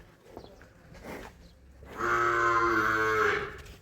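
A buffalo gives one loud, drawn-out moo lasting about a second and a half, close by, after quieter rustling and faint background noise.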